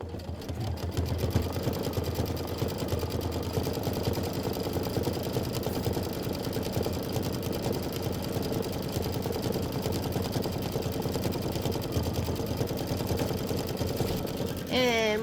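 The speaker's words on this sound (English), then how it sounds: "2 minutes of stitching right there." A sewing machine runs a decorative stitch on a Kimberbell Wallflower quilt block made with Minki Kim fabrics, giving a close, steady, continuous mechanical whir with a rapid, even stitching pulse and no clear break.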